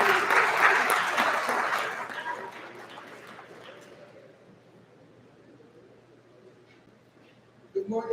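Audience at a school's annual Male Leadership Day forum claps for a student speaker, a burst of applause that fades over a few seconds into quiet room tone before a voice begins.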